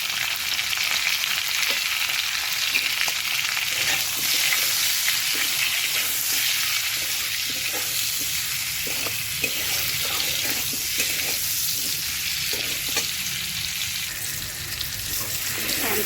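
Steady, dense sizzling of raw mango frying in a pan with salt and turmeric, continuous and close throughout, with faint clinks and scrapes now and then.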